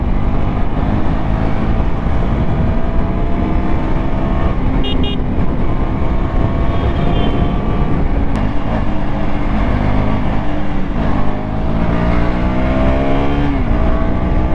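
A 200cc KTM motorcycle with about 13,000 km on it, running loud and close, its engine note rising through sustained acceleration with rising harmonics for nearly the whole stretch.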